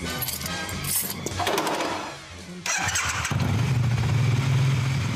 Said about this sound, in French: La moto d'une star dont il porte le prénom Steve McQueen